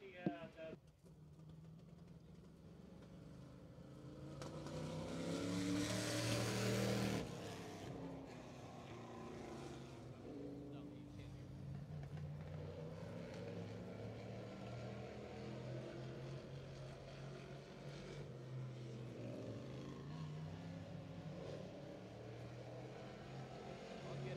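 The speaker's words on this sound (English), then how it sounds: "going to take a few hot laps here before our street stock feature with her sportsman car" A sportsman stock car's engine drones on a speedway oval during hot laps, swelling loudly as it passes around five to seven seconds, then settling into a steady, moderately distant roar beneath a commentator's voice.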